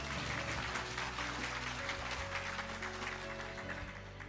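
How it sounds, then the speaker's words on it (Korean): Applause from the audience at an anniversary ceremony for a Korean community savings bank, a dense steady patter of many hands clapping throughout, with a low hum underneath that slowly fades. "큰 박수 부탁드립니다."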